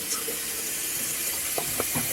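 Tap water running into a pot being filled for spaghetti, a steady hiss and splash under a few faint clinks.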